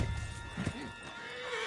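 A horse in Red Dead Redemption 2 gives a brief whinny over steady clip-clopping hooves, with a loud, busy game background during a getaway ride.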